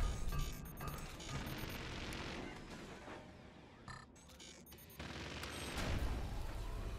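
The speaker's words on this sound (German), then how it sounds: "Dann fange ich aber trotzdem an zu schießen." Cannons firing in the artillery strategy game Forts, a dense run of overlapping booms and gunfire bursts that carries on throughout, loud and close, with no talking over it.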